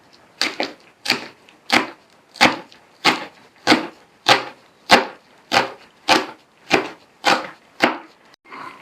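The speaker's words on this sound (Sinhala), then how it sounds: "ලේස් ටිකත් අපි මේ වගේ දික් හැඩයට කපාගමු." Knife chopping leeks lengthwise on a wooden board, about thirteen crisp, evenly spaced cuts in a steady rhythm, close and alone with no talk.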